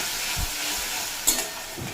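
Grated tomato fries in a pan with a steady close sizzle and hiss, a few soft stirring thumps and a brief clatter near the middle.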